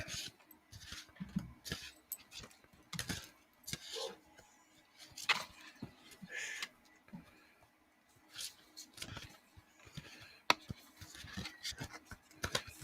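A deck of oracle cards being shuffled, giving repeated papery riffles and soft slaps in irregular bursts, close and fairly quiet, with a speaking voice in between.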